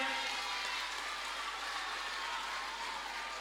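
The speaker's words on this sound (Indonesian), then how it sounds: "Sekali lagi tepuk tangan kita semuanya." Sustained applause from the audience at a graduation ceremony for TKA-TPA Quran school students in Tanah Bumbu: a steady, dense wash of clapping, fairly faint and distant, with no voices over it.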